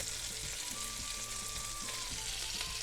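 Lemon slices sizzle steadily in a frying pan for an Italian lemon scaloppine, a continuous close hiss of frying with faint stirring underneath and no talk.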